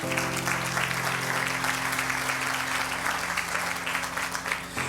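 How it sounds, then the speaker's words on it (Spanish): A church congregation in New York applauds together, sustained dense clapping filling the room at an even level throughout, with a low musical hum underneath. "Dele un aplauso a Dios, por favor."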